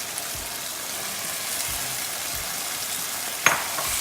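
Pasta stirred through a pan of white sauce, giving a steady soft sizzle and wet bubbling with a few low scraping stirs and one sharp clink of a utensil near the end.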